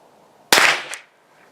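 A single sharp rifle shot at a precision shooting range, a loud close crack that rings out briefly and decays within about half a second, with no talking.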